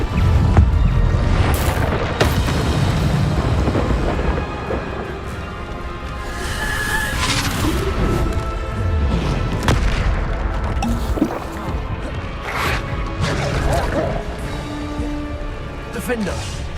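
Bombarda explosion spells in Hogwarts Legacy: repeated deep booming blasts amid a busy magical fight, with voices calling out spells over the ongoing rumble of battle.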